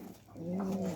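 A pigeon gives a single short, low coo at close range, rising out of faint background noise.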